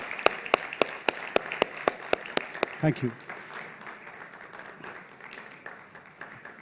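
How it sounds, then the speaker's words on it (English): At a corporate forum, an audience applauds a Botswana government guest of honour with sharp, evenly spaced claps for about three seconds that then stop abruptly, followed by a brief spoken thanks and quieter room noise. "please join me in giving a big round of applause"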